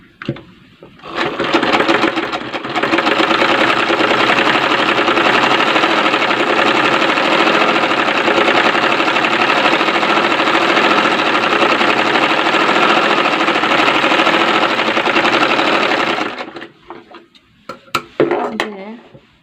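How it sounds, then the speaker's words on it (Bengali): A sewing machine runs steadily for about fifteen seconds, stitching a round Mexi-style dress with a close, continuous whir, then stops and leaves a few faint handling clicks. "এখন আমি চাপ সেলাই দেব।"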